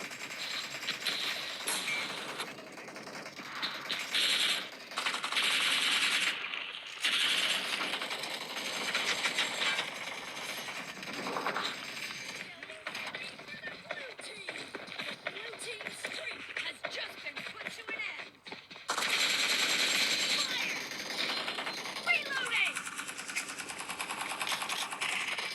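Rapid automatic gunfire bursts from the mobile battle game BGMI, played at the highest settings on a phone, come in clustered rattling volleys with brief gaps of quieter game sound between them.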